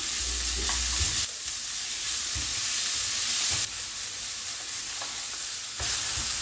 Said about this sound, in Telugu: ఈ బఠానీ కూడా వేగిన తర్వాత తురిమి పెట్టుకున్న సొరకాయ వేసేస్తున్నాను